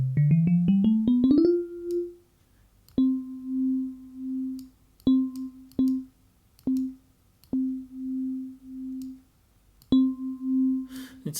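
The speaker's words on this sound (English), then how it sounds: "this is the sound of the" Soft electronic DX7 FM synth notes from Arturia's DX7 V plugin: a quick rising arpeggio, then gentle sustained tones struck at irregular intervals with clicky attacks, mellow and clean.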